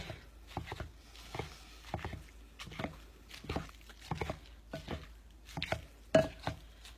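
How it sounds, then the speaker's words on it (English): Ground meat browning in a Pampered Chef RockCrok, Dutch oven size, for chili, broken apart with repeated scraping and tapping strokes against the stoneware, a steady irregular rhythm of soft clacks and squishes at close range with no talking. "I'm just going to break this up the rest of the way so we don't have big chunks of meat in our chili"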